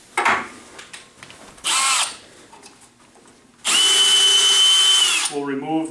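A power drill removes pre-installed fasteners from a Tell 3912 walk door lock set. There are several loud, close bursts of the whirring motor, short ones first and then a longer sustained run. A brief voice sounds at the end.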